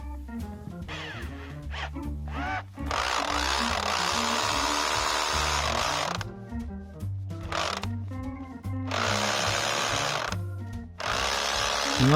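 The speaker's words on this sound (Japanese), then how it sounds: "これが僕が持ってるドリルの中で一番強力なんで、これなら割れると思いますけどね。" A power drill whines and grinds loudly in long bursts with a log-splitting drill bit, with brief pauses and changes in pitch as the bit labors against a wooden log.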